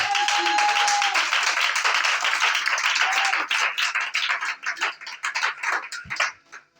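A church congregation applauds and cheers for Jesus, a dense wash of clapping and voices that thins into scattered, uneven claps toward the end.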